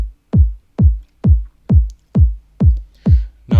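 A dry kick drum sample without saturation, from a house track built in a tutorial, strikes eight times at a steady, even pace, each hit a loud, deep thump with a quick decay and nothing else around it.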